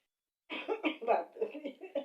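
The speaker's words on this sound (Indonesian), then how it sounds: "Batuk." A person coughs repeatedly in a short, uneven burst of about six or seven hacking coughs, close and fairly loud, starting after a brief silence.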